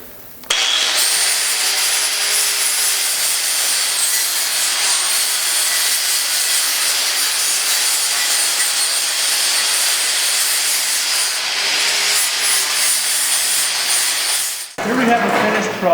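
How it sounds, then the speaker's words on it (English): A flap wheel on an angle grinder smoothing down a ground steel weld on a welding workbench, giving a loud, steady abrasive whine and rasp that runs almost unbroken for about fourteen seconds before cutting off. "We've now ground it off with our flapper wheel just to smooth it off"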